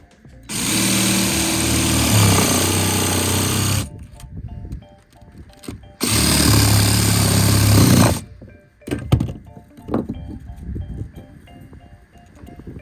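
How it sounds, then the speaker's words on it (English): A jigsaw finishes a cut through a wooden rafter board, running loud and close in two long buzzing bursts of about three seconds each, followed by a few brief restarts and clattering handling. "So we get our jigsaw and we finish off the cut."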